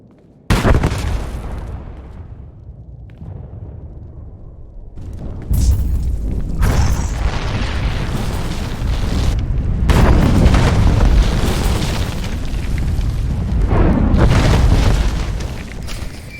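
Explosions in the Star Wars: The Old Republic video game boom loud and close. One sharp blast is followed by rumbling, then several more heavy bursts roll on continuously for over fifteen seconds, with no talking.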